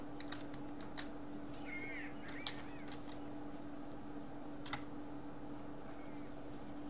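Bird calls in the medieval game Kingdom Come: Deliverance, a few short chirps and warbling cries over a steady low ambient hum, with faint clicks scattered through.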